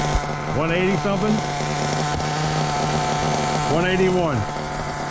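A Hobao Hyper VS2 nitro RC buggy engine idles steadily with a constant buzzing drone throughout, while brief whining pitch sweeps rise and fall twice over it.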